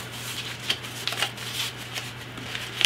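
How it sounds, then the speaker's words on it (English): Foil and rust-preventive wrap being peeled and crinkled off a new BM-59 bayonet, close up, with soft intermittent rustles and a few sharper crackles over a faint steady hum. "watching me unwrap this thing"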